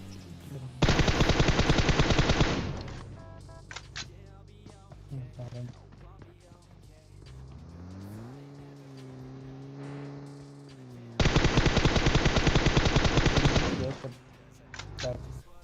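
Two long bursts of rapid automatic gunfire in PUBG Mobile, loud and close, separated by quieter game sounds with a rising hum between them.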